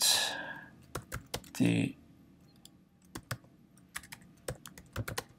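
Keys clatter on a computer keyboard while someone types Python code for a multiplication-table program, scattered close clicks in irregular bursts, with a brief spoken word near the start.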